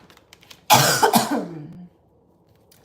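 A single harsh cough burst, close and fairly loud, with a brief rough throat-clearing tail before quiet returns.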